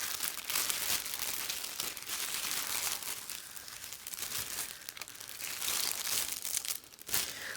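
Plastic wrapping on a mail package crinkles and crackles as it is unwrapped, with close, continuous rustling bursts rising and falling in intensity for several seconds and no talking.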